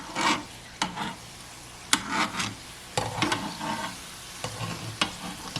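Glutinous rice sesame balls deep-fry in oil over medium heat while a strainer presses them down, giving irregular scraping, stirring bursts over a steady close sizzle.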